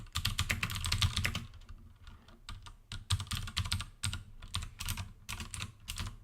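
Close, clattery typing on a computer keyboard in quick bursts of keystrokes with short pauses, loud and with no voice over it.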